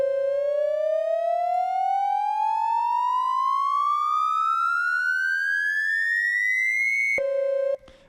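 A bright, buzzy synthesized tone built from a saw wave and a triangle wave glides steadily upward for about seven seconds, then drops abruptly to a lower steady pitch before cutting out.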